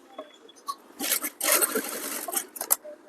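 A sewing machine stitches the lining of a Sabyasachi-style blouse, the fabric held and pressed along a curve. It runs in several short, close bursts of rapid needle clatter, with quiet pauses between runs.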